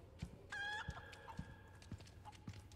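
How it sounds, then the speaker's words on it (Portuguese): Chicken clucking and squawking in the video game Resident Evil 4 Remake, several short close calls with one sustained squawk, over a low game background rumble. "Galinha, solta um ovo aí pra nós."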